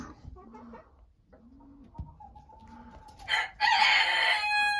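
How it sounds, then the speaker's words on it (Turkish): Roosters crowing in a backyard poultry enclosure, one long crow rising loud near the end after softer clucking and calls from chickens and pigeons nearby. "Erkekler de zaten orada ötüp duruyor."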